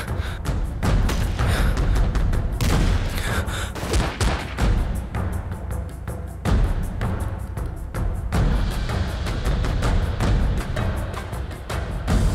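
Rapid bursts of gunfire crack repeatedly over a dense, booming background, loud and continuous throughout.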